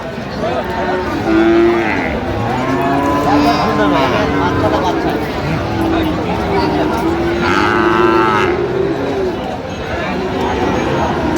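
Friesian and crossbred calves at the traditional Raniganj livestock market in Dinajpur moo repeatedly, loud and fairly near, over a constant crowd hubbub and background chatter.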